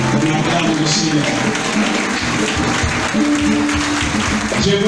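A church congregation standing and applauding at a celebration honoring a pastor's ministry, a dense, loud, sustained wash of clapping mixed with cheering voices and music tones underneath.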